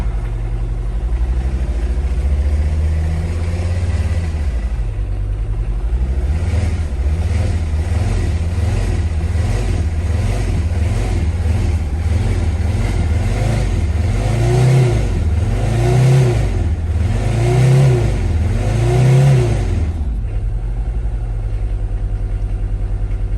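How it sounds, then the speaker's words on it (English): A cold 1976 Mercedes-Benz 300D diesel engine revs hard several times in a row, rising and falling in rhythmic bursts, loud and close, with no talking. "when the engine's cold, just rev it all the way"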